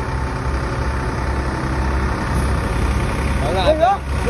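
A tractor engine rumbles steadily at idle behind a palanquin procession in Tisgaon, Maharashtra, with a voice calling out briefly near the end.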